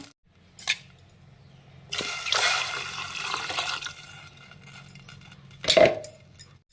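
Water splashes and pours into a cooking pot of tomatoes for a few seconds, with a metallic clink at the start and a clatter near the end.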